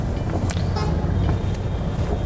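Steady road traffic rumble with a short car horn toot near the start, heard from inside a car making a U-turn on a busy road.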